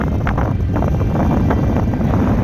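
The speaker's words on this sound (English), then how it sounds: "quite windy and lot of moisture." Steady wind roars and buffets the microphone on a cold, damp motorbike ride through the mountains of Bhutan near Trongsa, a dense continuous rush with no voices.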